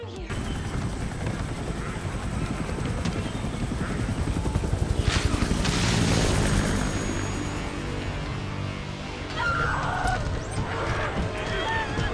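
Helicopter lifting off in the horror video game Resident Evil 9, a steady loud rotor and engine roar that swells midway with bursts of noise, game audio with no clear talk.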